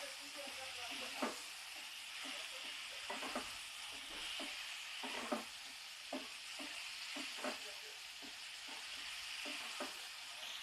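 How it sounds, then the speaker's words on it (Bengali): Pumpkin pieces sauté with spices in a hot pan, a steady soft sizzle running throughout while a spoon stirs and scrapes in about a dozen irregular strokes; no talking. "এইভাবে আমি মশলার সঙ্গে কিছুক্ষণ কষে নেব"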